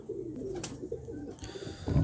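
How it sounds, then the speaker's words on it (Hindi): Soft, low cooing of a homebred pigeon held in hand, in a few throaty, rolling phrases, close by, with faint rustling and handling noise around it. "तो ये मेरे घर का बनाया हुआ परिंदा, मेरे घर का कबूतर है"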